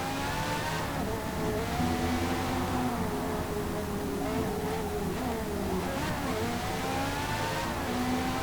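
Race car engines revving in Forza Motorsport 4, a steady, loud engine drone climbing and falling in pitch through the gears, with several cars' tones layered together.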